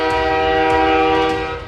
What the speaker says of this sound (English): I jolted upright to the loud rattle of a train.